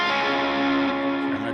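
A sustained, heavily distorted electric guitar tone rings out with thick harmonics and steady loudness, no other sounds around it.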